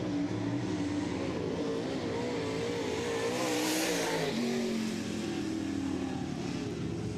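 Late model race car on a qualifying lap at an oval track, engine droning loudly and steadily with a rising and falling pitch, then a sharp lift-off near the end as the car passes close by.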